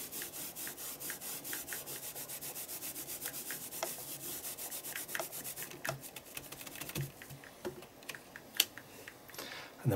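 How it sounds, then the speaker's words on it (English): Ink being gently rubbed through a stencil onto an art journal page, a fast steady run of soft scratchy strokes close up that turns slower and more uneven toward the end, with no talk. "I'm just going to lay that over and then just gently rub through the stencil"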